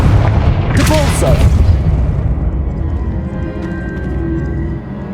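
Confringo and Depulso spell blasts in Hogwarts Legacy: loud booming impacts with a crackling burst early, then a rumbling decay that fades over the following seconds.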